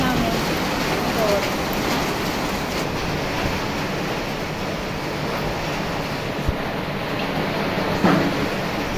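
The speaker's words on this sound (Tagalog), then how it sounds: "Sobrang lakas ng ulan" Heavy rain pouring down behind a raised house in the Philippines, a loud continuous broadband hiss of downpour with occasional thuds, and a voice speaking briefly over the steady roar.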